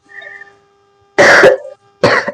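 Two sharp, loud coughs close by, separated by a short pause, after a faint tonal hum.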